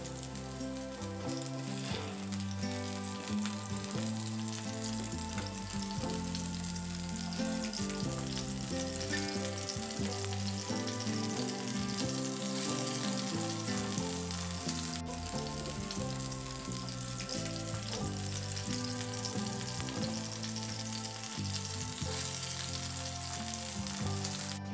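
Fish pieces frying in oil in a pan, a loud, continuous crackling sizzle that holds steady throughout, with no voices over it.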